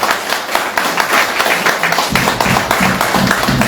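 A church congregation claps hands together, a dense, loud patter of many hands that continues throughout, with low music or murmuring joining underneath partway through.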